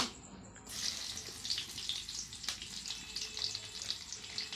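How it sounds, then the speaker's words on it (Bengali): Chopped garlic frying in oil gives a steady close sizzle with bright crackling spits, one sharp tap near the middle, and no voices. "এখানে তেল দিয়ে দিলাম, কিছুটা রসুন কুচি"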